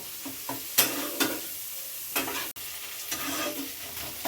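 Prawns and water lily stems stir-fried in a pan give a low sizzle broken by several sharp scraping stirs and clatters, close and without speech.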